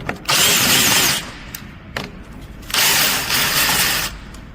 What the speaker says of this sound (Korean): 마스터 실린더를 고정하고 있는 요 볼트 2개 분리해 볼게요